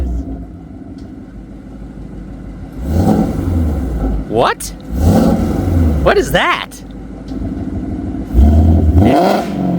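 A 2024 Mustang GT with Kooks headers revs up in sharp bursts, rising whines with deep rumbling exhaust burbles between them, close and loud, with people talking over it.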